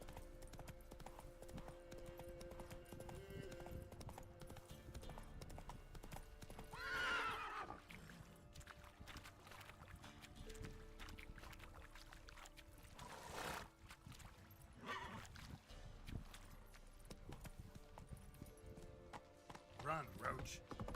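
Roach, the horse in The Witcher 3, gallops with rhythmic clip-clop hoofbeats and gives a couple of loud neighs and whinnies. A voice speaks over the game sounds.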